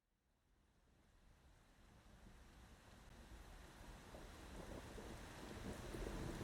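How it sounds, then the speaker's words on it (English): Rain soundscape outside a cathedral: a dense, steady wash of rainfall with low rumbling undertone, gradually swelling louder from a faint start, no voices. "Here's like an outside rainy cathedral"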